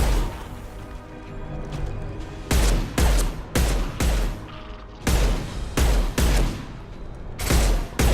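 Weapons fire in Mass Effect 2 as armor-piercing shots punch through enemy armor: repeated heavy bursts of gunfire in several clusters, loud and close, with a rumbling game soundscape between volleys.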